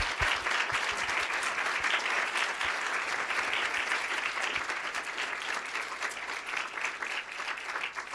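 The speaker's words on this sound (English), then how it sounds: "will you join me in giving Dr. Carter a round of applause?" Following a lecture on educational inequality, an audience gives the speaker sustained, dense applause, even and unbroken at moderate volume throughout, with only a scattered sharp clap standing out near the start.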